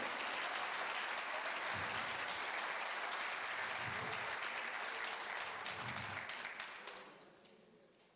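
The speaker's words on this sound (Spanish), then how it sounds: "dele un aplauso al Señor." A church congregation applauds steadily, a dense wash of clapping that holds for several seconds and then fades out toward the end.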